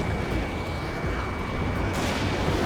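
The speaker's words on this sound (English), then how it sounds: "Missile fired." A missile launches from a jet in the Ace Combat 7 flight game, giving a loud, steady rushing roar that holds through the clip and shifts slightly near the end, with no talking.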